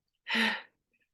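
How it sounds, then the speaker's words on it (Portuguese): A single sneeze bursts out loud and close during a class lesson, with a sharp breathy onset that quickly fades into quiet. "acho que eu vou espirrar"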